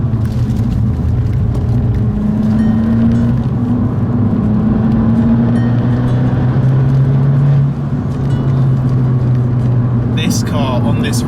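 An Abarth 695 70th Anniversario drives along a road, its engine a steady droning hum with gentle shifts in pitch as revs change, close and loud with road rumble underneath.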